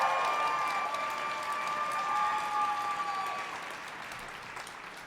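A round of applause from a gala audience, steady dense clapping that gradually thins and softens toward the end, with faint voices mixed in.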